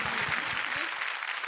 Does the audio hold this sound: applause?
yes